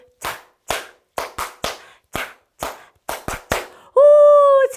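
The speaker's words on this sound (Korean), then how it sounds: "오 박수 소리" About a dozen separate hand claps, sharp, close and unevenly spaced, in an online children's church service, followed by a sustained tonal sound at the end.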